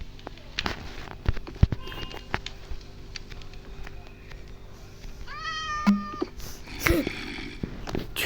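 A cat meows a few times midway through, with rising, drawn-out cries standing out over a noisy room with scattered thumps and pops.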